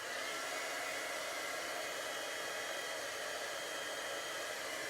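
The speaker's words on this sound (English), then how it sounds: "now I get to turn on the hairdryer" A hair dryer heating gold embossing on a card blows steadily and close by, a constant loud whooshing hiss that runs the whole time without a break.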